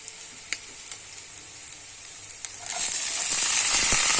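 Chopped onion dropped into mustard oil already frying with chilli, garlic and ginger; faint crackle at first, then a loud, steady sizzle bursts up and holds, close by with no talking.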